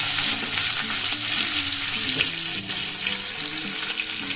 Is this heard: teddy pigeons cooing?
no